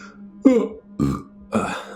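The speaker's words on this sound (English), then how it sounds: "until I burp and ruin the recording because I'm burping" A man lets out a series of three close, throaty burps in quick succession, each a short guttural croak over a faint steady hum.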